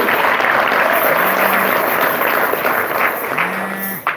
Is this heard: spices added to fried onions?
no